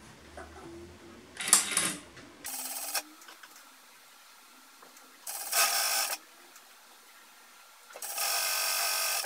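A sewing machine stitches piping for pajamas in three short separate bursts with quiet pauses between, the last run steady to the end.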